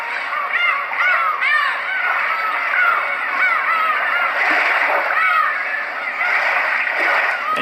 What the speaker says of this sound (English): This one includes seagulls.